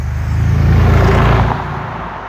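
A deep Bentley Continental V8 engine rumbles and swells as the car accelerates, then eases off, loud and close.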